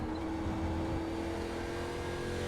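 Race car engine in iRacing during an ARCA Menards Series race, held at a steady high roar on throttle for a couple of seconds, continuous and close with no talk.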